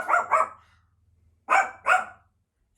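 A dog named Maddie, a grandma's pet with poor eyesight, barks in two quick pairs of sharp, fairly close woofs separated by a pause, with a faint low hum underneath and no talking.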